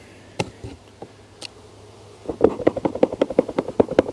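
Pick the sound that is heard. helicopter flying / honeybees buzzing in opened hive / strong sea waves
honeybees buzzing in opened hive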